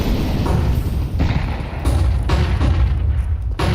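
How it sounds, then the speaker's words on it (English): A grenade blast in a Counter-Strike pro match lands as a heavy, chunky boom, followed by several more dull thuds and impacts in quick succession over a dense, steady game-audio bed. "Nice chunky nade there onto Lucan"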